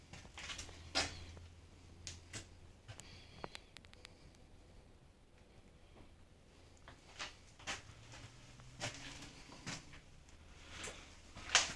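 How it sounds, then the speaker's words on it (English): Scattered faint creaks and knocks inside a dark abandoned train carriage, with sharp clicks and thuds spaced irregularly and no talking. "There's a lot of creaking and noises happening."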